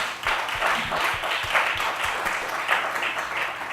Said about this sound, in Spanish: Queremos pedir un aplauso para todos los miembros del panel